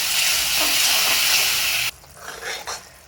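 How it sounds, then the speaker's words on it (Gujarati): Loud, steady hissing and bubbling of jaggery and water syrup boiling in a pan that cuts off abruptly, leaving a few faint bubbling sounds. "આવી રીતે આપણે ગોળને એકદમ ઉકળવા દેવાનું છે."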